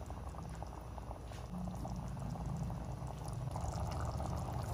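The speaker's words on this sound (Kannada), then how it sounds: "ಇಷ್ಟು ಚೆನ್ನಾಗಿ ಕುದಿ ಬರ್ತಾ ಇದೆ" Rajma gravy bubbles at a steady boil in an open pressure cooker, a dense continuous simmering hiss with soft popping and no voices.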